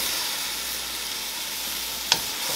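Shrimp and broccoli sizzle steadily in a stir-fry pan, giving a loud, continuous hiss with one brief crackle near the end. No one speaks.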